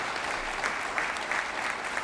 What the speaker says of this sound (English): A round of applause for our 2 other